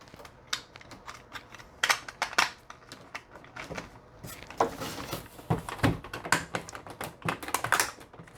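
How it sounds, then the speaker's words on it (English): Plastic parts of a Transformers Studio Series 86 Sludge figure are tabbed together, giving close, irregular clicks, snaps and taps of hard plastic that grow busier and louder toward the end, with no talk. "Let's go ahead and tab these together now to one piece."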